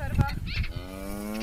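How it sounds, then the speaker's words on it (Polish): A cow lowing in a rural pasture, one drawn-out moo that rises and holds, fairly close and moderately loud over a faint background. "A nie, to nasza krowa."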